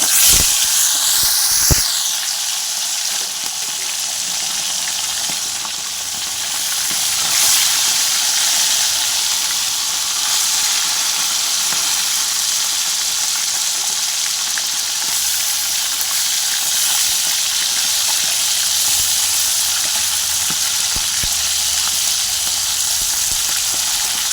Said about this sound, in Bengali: তেলটা গরম হয়ে গেছে মাছগুলো একে একে ছেড়ে দিচ্ছি